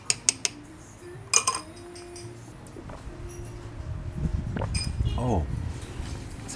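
A spoon clinks sharply against a glass of iced Vietnamese coffee with yogurt, a few bright taps followed by softer scraping and swirling, with someone speaking French faintly in the background.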